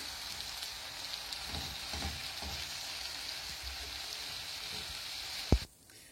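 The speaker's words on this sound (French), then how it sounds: "je rajoute le poivron et je laisse bien revenir. Ensuite, je rajoute la viande hachée" Minced meat and bell pepper frying in a pan, a soft steady sizzle with faint stirring, ending in a sharp knock before sudden quiet.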